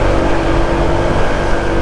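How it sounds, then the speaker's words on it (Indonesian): A motor scooter engine pulls hard with the throttle wide open during a drag race, a loud, steady, close buzzing roar. "Jadi kita nutup gas, langsung buka gas tuh langsung brrr."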